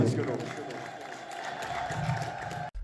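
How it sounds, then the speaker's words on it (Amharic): A church congregation ululating in praise at the annual feast of Abune Gebre Menfes Kidus: a sustained, high, trilling chorus of many voices, mixed with crowd noise and clapping. "እልል ብላችሁ እግዚአብሔርን አመስግኑ"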